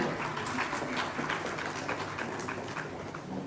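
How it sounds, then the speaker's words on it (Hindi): A crowd at a government cleanliness award ceremony in Jharkhand applauds as winners receive certificates and cheques, a dense, sustained wash of clapping from many hands in a large space. "जोरदार तालियां होनी चाहिए।"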